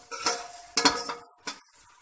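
Onion and garlic paste frying in a pan, heard as a few brief scraping stirs with soft sizzling in between, close and moderately loud with no talking.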